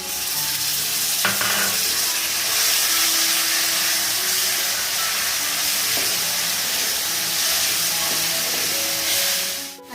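Tomato puree hitting a hot pan for egg tawa masala, with a loud, steady sizzle and stirring scrapes that continue throughout, then drop off sharply at the end.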